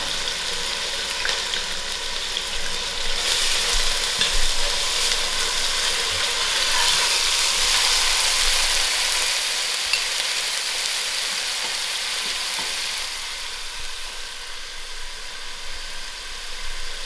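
Crushed onions fry in a quarter cup of hot oil in a pot for a Durban-style lamb dhal gosht, a dense continuous sizzle with faint clicking crackles and occasional stirring, steady and close, no voices.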